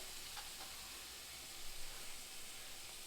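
Garlic fries in oil in a heavy casserole, giving a soft, steady sizzle and hiss with faint stirring bumps partway through.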